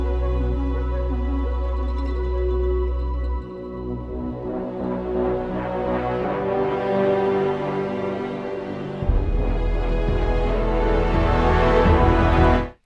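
Orchestral string harmonies from the Freelancer theme of the Anthem video game soundtrack, played sped up: a sustained, layered string texture with a deep low drone that swells steadily louder and cuts off abruptly at the end.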